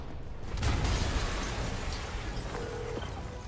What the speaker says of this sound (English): an explosion just... I saw it.